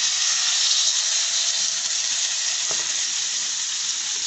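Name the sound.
pomfret fish sizzling as it is fried in hot oil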